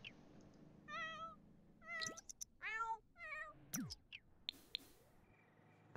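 Several cats in The Sims 4 meow in short, separate calls, a few rising and falling in pitch, spaced across the moment with quiet gaps and faint background tones between them.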